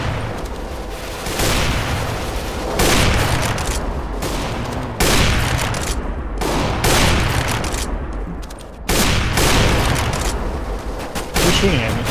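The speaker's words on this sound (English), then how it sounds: "Who's shooting at me?" Gunfire in Counter-Strike: Global Offensive: loud, sustained automatic bursts with brief gaps between volleys, dense and close, going on for several seconds.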